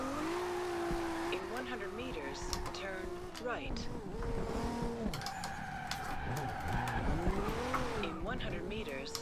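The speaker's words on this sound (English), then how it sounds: "I'm trying to drift 360 degrees here" Tires screeching and skidding as a Toyota Supra drifts in a racing video game, long wavering squeals over engine drone, with someone talking throughout.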